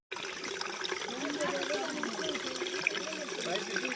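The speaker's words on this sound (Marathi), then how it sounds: "पाण्याचा आवाज किती छान येतोय ना" River water runs continuously over stones in a village stream where clothes are washed, a steady close babbling rush with no voices over it.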